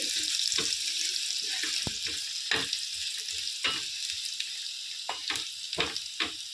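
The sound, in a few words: garlic frying in oil until reddish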